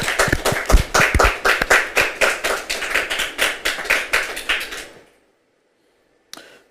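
Church congregation applauding together, a steady burst of many hands clapping close and loud for about five seconds before stopping abruptly, followed by silence and one short knock.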